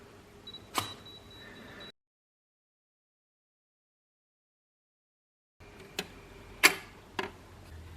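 Camera shutter set to a one-second exposure while photographing a spinning record: a sharp click opens it, then a gap of near silence, followed by a cluster of mechanical clicks and ticks as it closes and resets.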